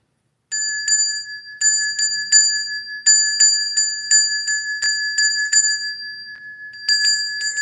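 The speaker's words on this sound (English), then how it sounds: "Let me ring my bell." A hand bell rings in quick bursts of clear, bright strikes with a sustained metallic ring, shaken repeatedly with short pauses between the bursts, close and alone.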